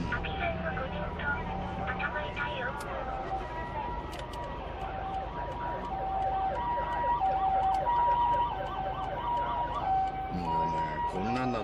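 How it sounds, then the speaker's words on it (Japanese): An ambulance siren wails steadily in the middle distance with its alternating two-tone pattern, over continuous traffic rumble and road noise on an icy Japanese street. "ほら救急車も来てるし"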